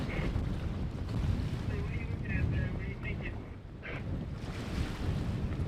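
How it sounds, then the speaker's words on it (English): Waves rush and churn behind a catamaran crossing a shallow bar amid steady wind buffeting, with a few faint voices calling out beneath the roar of water. "We got waves behind us."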